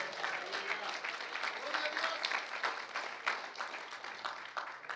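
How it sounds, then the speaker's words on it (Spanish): Church congregation applauding with steady, dense clapping that fills the room at moderate volume, with a voice speaking over it. "Si quiere aplaudir, aplauda y hágalo para el Señor con todo su corazón."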